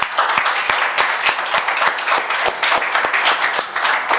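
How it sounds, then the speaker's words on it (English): Clapping from a small group of students in a classroom before a coordinator election, loud and near, with distinct sharp claps in an uneven, loosely rhythmic pattern. "Can you please clap everyone?"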